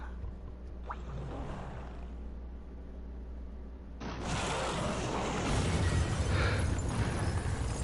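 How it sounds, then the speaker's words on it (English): A fire-breathing monster unleashes a roaring blast of flame in the Monster Hunter Stories game, a broad, loud rush that swells and grows fuller partway through over a steady mechanical rumble. "We could use the monster that breathes fire."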